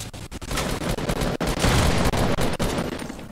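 Gunfire erupts in the Fortnite Battle Royale video game, with dense rapid bursts of shots firing almost nonstop, loud and close, broken by a few brief gaps.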